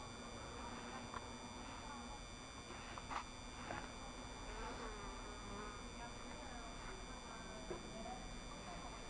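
A hornet hunts among beehives in an apiary, its faint buzzing drifting in and out over a steady background hum of many bees, quiet and distant overall.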